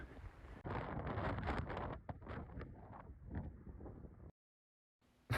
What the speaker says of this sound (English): As you can see, it's quite windy, and it ended up blowing the whole tripod over.